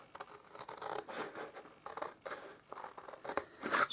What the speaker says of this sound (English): Should have brought my big scissors in.